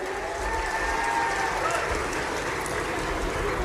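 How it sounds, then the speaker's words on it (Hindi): Crowd at a public event with Chief Minister Mohan Yadav in Khargone, Madhya Pradesh, applauding MP Gajendra Singh, a steady dense wash of clapping over low rumble, with faint tonal sounds in the background. "अभिनंदन करें गजेंद्र सिंह जी का जोरदार तालियां बजा करके।"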